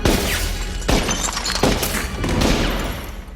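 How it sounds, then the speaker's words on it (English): Gunfire in a scene from the horror film Halloween H20: sharp bangs mixed with shattering, breaking crashes, loud and close over a dense, noisy soundtrack. "Will panics when he sees Ronnie and starts shooting."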